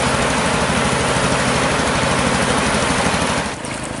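A motorboat engine runs steadily on a river in Labuhan Batu Utara, a loud, continuous low drone near at hand that eases slightly in level toward the end.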